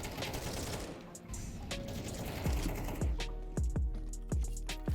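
Rapid gunshots ring out in a Counter-Strike style shooter on a hack-enabled server, a dense series of sharp cracks that quicken into a steady rhythmic burst of fire with faint game ambience behind.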